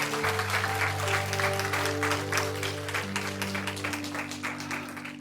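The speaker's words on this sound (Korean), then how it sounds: "다시 한번 크게 박수해 주시기 바랍니다" Church congregation applauding during a Sunday service, sustained dense clapping from many hands in a large room, with a held organ or keyboard chord underneath.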